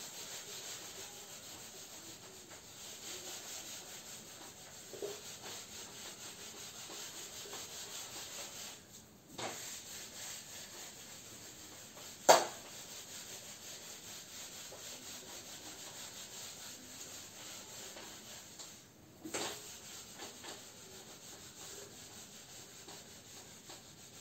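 A duster rubs writing off a board in steady, soft scrubbing strokes that continue throughout, with a few sharper knocks and taps along the way and no voice.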